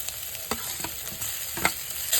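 Potatoes and soybeans fry together in a pan, a steady hissing sizzle punctuated by several quick spatula scrapes and knocks, close and clear, with no one speaking.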